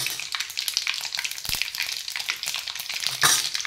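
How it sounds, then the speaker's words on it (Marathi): Mustard seeds crackle and sizzle in hot oil for tempering, a dense, steady frying hiss with sharp pops throughout and a louder burst near the end. "तेल उकळून द्यायचं, मोहरी टाकायची"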